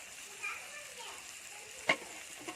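Potatoes fry in oil with onion and turmeric, giving a steady soft sizzle close by. There is one sharp clatter near the end and a fainter knock just after it.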